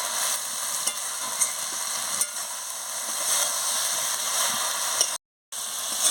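Cabbage curry with fish head being stirred in a pan, a steady sizzling hiss with occasional scraping clicks of the spoon, close and continuous, briefly cutting out near the end.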